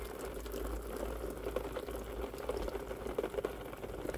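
Water mixed with air gurgles and bubbles steadily through underfloor heating pipes on a heat pump installation, a continuous close churning burble with a low pump hum beneath.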